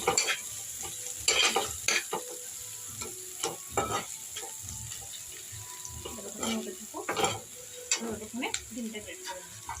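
Spices with a little turmeric stirred in a frying pan for Maggi noodles: repeated scraping strokes of a spoon against the pan over a soft sizzle, close and moderately loud, with scattered clinks and a faint tap-water trickle.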